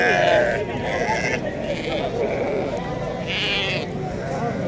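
Sheep bleat repeatedly at a crowded livestock market in Morocco, loud overlapping calls over a dense murmur of people talking and bargaining.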